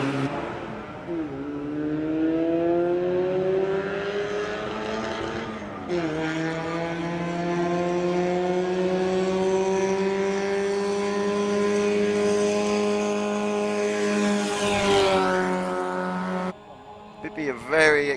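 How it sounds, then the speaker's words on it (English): An Epsol 555 replica rally car climbs a hill climb at a retro car gathering. The engine revs rise through the gears with a clear shift break. The loud, close snarl sweeps past and then cuts off near the end. "555 replica car flying up the hill again."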